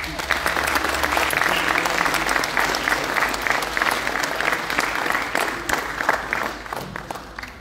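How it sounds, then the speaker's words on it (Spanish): An audience at a book event applauding warmly, dense sustained clapping from many hands filling the room, gradually thinning toward the end. "un caluroso aplauso a los escritores cordobeses que nos acompañan en este magno evento"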